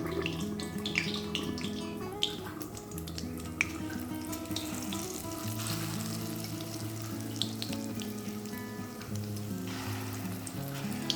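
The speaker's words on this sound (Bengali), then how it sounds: "এখন এই তেলের মধ্যেই বড়াটা ভেজে ফেলবো।" Small lentil fritters fry in hot oil in a home kitchen, giving a continuous, fairly quiet crackling sizzle with a steady low hum beneath and a few sharper pops.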